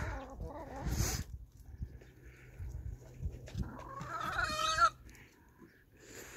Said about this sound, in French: Monsieur devient un vrai coq qui se perche